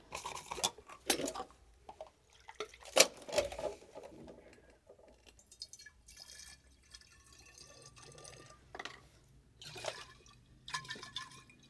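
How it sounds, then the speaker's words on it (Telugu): Water poured and splashed by hand to create a layer for film foley sound effects, heard as close, irregular bursts of trickling, dripping and patter separated by quiet gaps. "వాటర్ ఇట్లా పోసుకొని"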